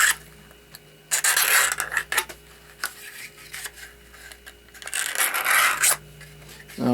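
Flash scraped off the edge of a Kydex sheath, with several bursts of close, loud, rasping strokes separated by short pauses.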